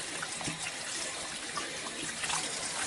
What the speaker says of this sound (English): Wash my hands while I'm at it